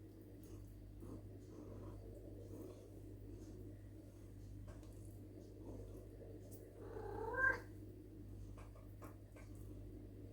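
Cats meow and purr softly nearby, with one louder plaintive meow rising above a low steady background hum.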